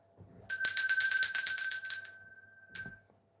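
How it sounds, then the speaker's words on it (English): A bell rung indoors at home, a bright sustained metallic ring with shimmering overtones that slowly decays, then a second short strike near the end; no talking. "my neighbours must wonder why on earth we ring a bell 2 nights a week"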